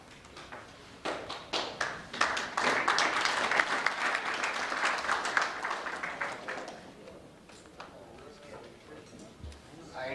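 Audience at a baseball and softball oldtimers banquet giving a short round of applause, scattered claps that swell briefly then thin out to a few taps, with a voice speaking around it.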